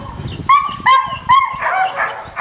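A husky sled dog bred for an Iditarod race team at a Denali, Alaska homestead gives three loud, close, yelping barks in quick succession, then trails into a drawn-out whining howl.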